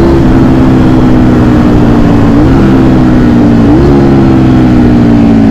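Loud, droning engine of a Ducati Streetfighter motorcycle during a ride, a steady mid-pitched hum that steps up in pitch twice as the rider shifts through gears, with heavy wind rush throughout.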